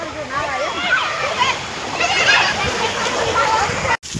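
Rainwater rushes and splashes into a canal after a shower, a steady close wash of water with children's voices chattering over it.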